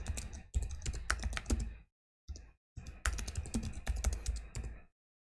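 Rapid clicking of a computer keyboard as a plugin name is typed into a search box, close and crisp, in two bursts separated by a brief pause, with no talk.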